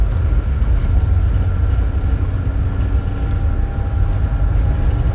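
Commuter train on the West Midlands line near Birmingham heading down into an underground tunnel, a loud steady low rumble of wheels and carriage noise with no talk.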